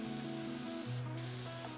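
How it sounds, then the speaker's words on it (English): An HVLP spray gun spraying white matte water-based varnish, a close, continuous hiss with steady tonal whine, briefly dipping before resuming. "Now I can apply some white matte water-based varnish. I'll use an HVLP spray gun"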